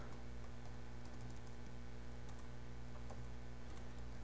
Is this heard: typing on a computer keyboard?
yes